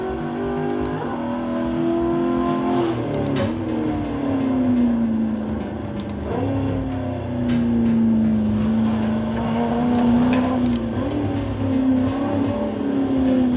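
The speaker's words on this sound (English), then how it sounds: "These powerful cars will get squirrely even in fourth gear at 100 miles an hour." A Koenigsegg CCX supercar accelerates hard on the Dunsfold test track. Its engine note is loud and close, holding a steady roar whose pitch climbs and drops through gear changes, with no talking.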